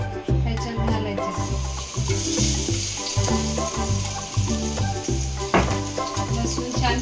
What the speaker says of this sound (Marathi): पॅन छान तापल्यावरती जे आपण कुटून घेतलेले लसूण होते, हे लसूण आपल्याला ह्याच्यात घालायचे